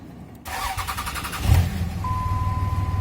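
A truck engine cranks and starts, then settles into a steady running rumble close by, with a faint whine rising over it.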